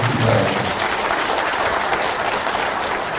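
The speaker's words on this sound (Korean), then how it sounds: "우리가 이정재 박사님께 다시 한번 큰 박수로" Sustained audience applause fills a lecture hall after a Korean history lecture by Dr. Lee, a steady dense clapping that stays loud throughout with no talk over it.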